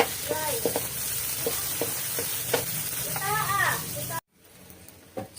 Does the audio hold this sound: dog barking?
no